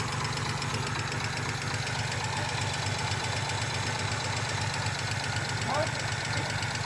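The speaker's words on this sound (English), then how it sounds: "Well, it's definitely fucking misfire." An engine idles with a misfire, giving a steady low rumble with an uneven, knocking pulse that stays loud and close for the whole stretch. A faint voice sits under it.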